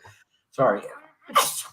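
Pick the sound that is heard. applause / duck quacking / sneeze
sneeze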